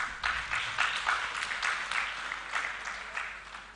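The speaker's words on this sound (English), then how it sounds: "A round of applause, ladies and gentlemen," An audience at an International Day of the Girl Child event in Lilongwe applauds, steady, moderately loud clapping from a crowd, heard alone and sustained throughout.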